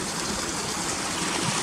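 A moorland stream on the walk from Gunnerside to Muker flows in a steady, close rushing wash, continuous and alone with no voices.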